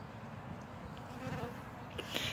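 Bees swarm around a weak hive that is being robbed, making a close, continuous buzzing hum from many insects throughout the short stretch.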